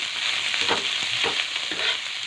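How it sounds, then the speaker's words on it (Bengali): Leafy greens with garlic frying in a hot pan, a continuous close sizzle with rhythmic scraping as a spatula stirs them, no voices. "শাকটা দিয়ে দিচ্ছি। এবার একটু নাড়বো, পুড়ে যাবে।"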